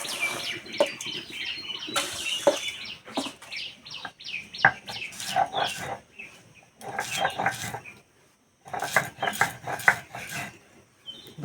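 Fried flattened rice (chira), cooled after roasting, being crushed into powder: close, irregular bursts of crunching, clattering and scraping with brief pauses, no voices.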